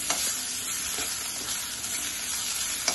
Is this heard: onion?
yes